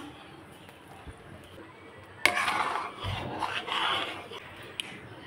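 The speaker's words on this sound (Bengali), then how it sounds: "এইভাবে অনবরত নাড়তে হবে যাতে তলে লেগে না যায়।" A spoon scrapes and rubs against the bottom of a pot of khir thickened with milk powder, giving soft intermittent strokes that turn busier and louder partway through, heard close and without talk.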